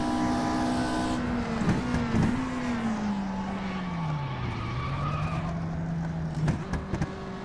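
A race car in a sim racing game played on an open sim wheel, with a steady engine tone rising and falling through gear changes and repeated tire skids and squeals across the run, with no talking.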